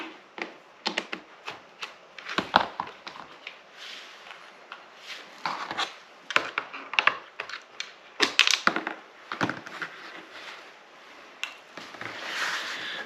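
Screws being removed from a plastic weed eater housing during repair, with a series of close, sharp clicks, taps and scraping handling noises in irregular bursts, separated by quieter pauses.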